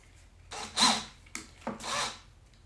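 A Spyder drill bit bores into heavy wood during a workshop bench test, producing two pairs of harsh grinding bursts separated by brief pauses.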